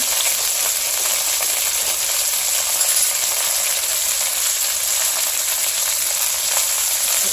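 Chicken, carrots and onions sizzle steadily in a pan after wine is poured in, a constant, close hissing fry with faint bubbling and no talk.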